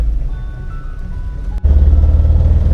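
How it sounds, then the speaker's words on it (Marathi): Inside a goods tempo truck on the move, a steady low engine rumble fills the cab, growing heavier and louder after a brief dip partway through. "आपला प्रवास आजचा टेम्पोतून आहे सामानाचा टेम्पो"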